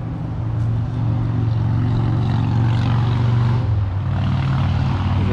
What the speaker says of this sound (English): Beautiful sounding bike.